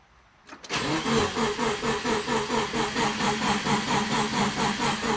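A Subaru engine in a sleeper build fires up for its first start: brief cranking, then it catches and settles into a loud, steady, slightly lumpy idle with rhythmic pulsing, close and alone.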